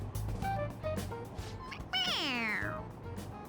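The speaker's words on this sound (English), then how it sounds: "It meows when you press on its head." A stuffed toy cat in Persona 5 Royal gives out a couple of short meows, then one long, loud, drawn-out meow as it is pressed, over faint background noise.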